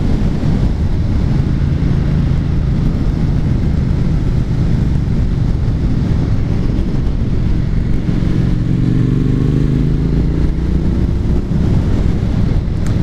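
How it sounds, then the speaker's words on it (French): A Triumph Street Twin motorcycle accelerates on the road, its engine rumbling loudly under heavy wind buffeting, with a rising tone toward the end. "C'est vrai que ça accélère vraiment fort"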